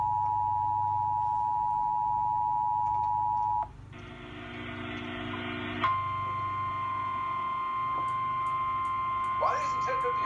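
A NOAA weather radio sounds its 1050 Hz alert tone for a child abduction emergency. A steady pure tone holds for about three and a half seconds, gives way to a brighter multi-tone burst, then returns as a single tone over a low background hum.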